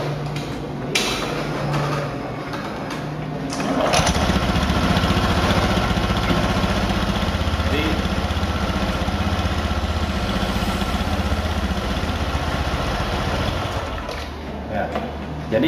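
A scooter engine runs and turns its CVT primary pulley, giving a steady, close mechanical hum and drone that grows noticeably louder after about four seconds and then holds level.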